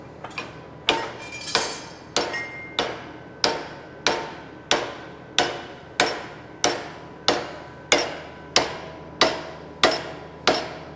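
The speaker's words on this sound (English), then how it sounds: "you're going to have to hit a little harder, Tom." A hammer strikes a piece of high-carbon steel clamped in a vise in a welding demo, about sixteen sharp, ringing metallic blows at an even, steady pace, close and clear.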